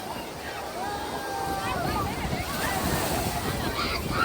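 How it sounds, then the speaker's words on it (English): Ocean surf rolling in at Negombo Beach in Sri Lanka, a steady broad wash of breaking waves swelling louder, mixed with wind buffeting the microphone and faint voices nearby. "My first trip to a Sri Lankan beach."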